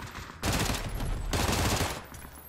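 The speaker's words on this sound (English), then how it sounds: "Bro, our teammates are shooting each other." Dense automatic gunfire in PUBG as teammates in a FAMAS-only lobby shoot each other: loud, rapid overlapping bursts that swell twice and run almost continuously, close and alone without talk.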